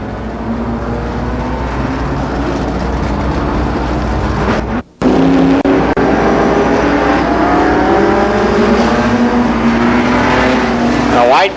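Race cars circle the track at Columbus Motor Speedway during the 1992 Memorial Day Classic, engines roaring and revving in overlapping passes, loud and continuous, with a brief dropout midway and an announcer talking over the noise.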